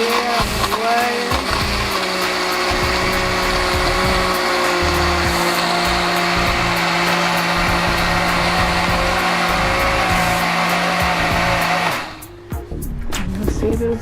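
A blender runs continuously for about twelve seconds, crushing hard Jolly Rancher candies with a steady loud whirring drone, then cuts off abruptly near the end.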